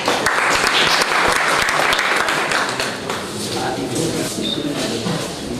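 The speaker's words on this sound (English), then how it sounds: "Can you clap?" An audience applauds at a certificate distribution ceremony, a dense, steady wash of clapping from many hands that fills the whole stretch and eases slightly toward the end.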